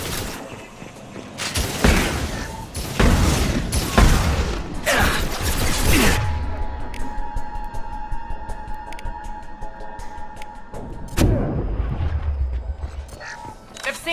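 Shotgun fire in the Mass Effect 2 video game: several loud, close blasts in quick succession, then a sustained hum and ringing, and more blasts toward the end, all with combat noise.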